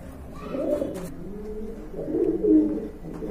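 A pair of Gorra pigeons coo softly nearby, low throaty calls rolling in two short bouts, with faint rustling in between.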